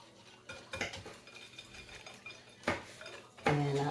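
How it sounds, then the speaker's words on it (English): A whisk clatters against the side of a bowl while stirring dessert batter, producing soft, irregular scraping and clinking strokes at close range with a louder tap near the end, faint and quiet overall. "Anyway, so I'm whisking this up."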